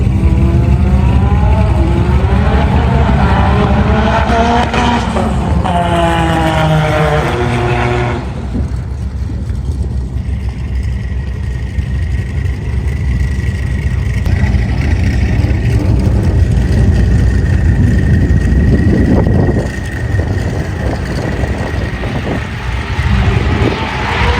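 Nissan R35 GT-R cars at a roll race, a loud engine note climbing in pitch through gear shifts, then a sustained roar and drone from the passing cars.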